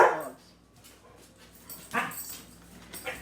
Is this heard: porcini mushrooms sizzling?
no